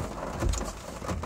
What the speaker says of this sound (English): it's raining real hard